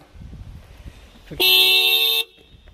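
A newly fitted vehicle horn is tested during maintenance work: one loud, steady blast lasting under a second, close by, rising out of quiet background rumble and then cutting off sharply.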